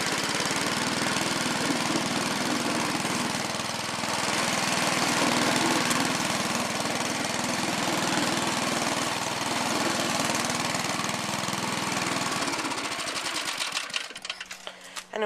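A small engine on a Bolens Husky 1254 garden tractor runs steadily and loudly with a rough, buzzing drone, then sputters unevenly near the end.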